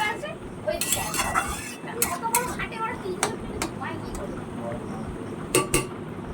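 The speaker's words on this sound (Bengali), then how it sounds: "এটাকে আমি ভালো করে এখন নাড়াচাড়া দিয়ে নেব।" Dal and meat curry being stirred in a pot, with scattered metallic clinks and scrapes of a spoon against the pot over a steady low cooking background, and a voice talking in places.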